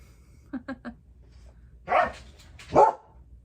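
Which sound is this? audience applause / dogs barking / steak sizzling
dogs barking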